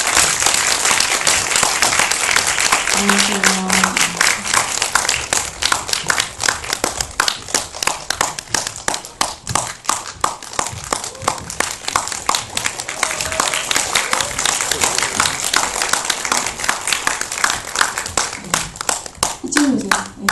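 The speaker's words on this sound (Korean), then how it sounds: "박수로 환영해 주십시오" An audience welcomes a film director and cast members with vigorous clapping. The applause is dense and continuous for about twenty seconds, with a few voices breaking in briefly, including a short spoken greeting.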